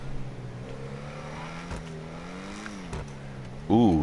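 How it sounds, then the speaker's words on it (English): A car engine revs in the video game GTA Online, its pitch rising and falling in smooth sweeps before a sharp louder rev burst at the end, with a voice talking over it. "Ooh, this one has a nice engine sound to it as well."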